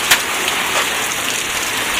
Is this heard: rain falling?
yes